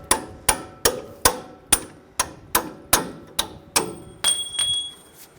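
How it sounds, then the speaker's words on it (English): Hammer blows drive a punch against a front lower control arm bolt on a 2011-2018 Ram 1500, about a dozen sharp metallic strikes at a steady pace, close and alone, ending in a ringing clang. "When you take this bolt out, just use a punch."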